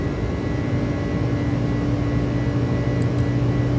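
Airbus A300-600 engines at climb power in Microsoft Flight Simulator drone as a steady, loud, broadband roar with a sustained tonal hum, unbroken throughout.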